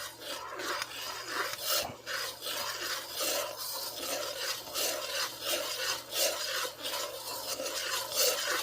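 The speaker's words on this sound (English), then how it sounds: "Give it a nice stir." A spoon or paddle stirs a seafood boil in a pot, a close, repeated rasping scrape in uneven strokes over a low steady hum, without talk.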